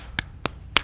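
An eighth-note triplet on a blues guitar: three short, crisp, percussive strums evenly spaced in under a second, close and clear with nothing else playing.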